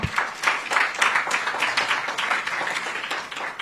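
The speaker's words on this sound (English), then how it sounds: "let's give a round of applause to the candidate for the responses he has had" A burst of applause from a group at an African Union address in Ethiopia, steady clapping that holds for a few seconds before easing slightly.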